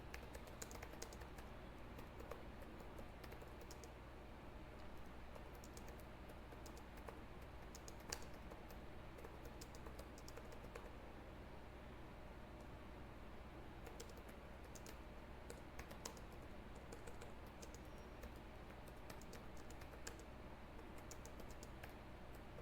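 Someone types an email reply on a computer keyboard, a faint, continuous patter of key presses over a low steady room hum with no speech.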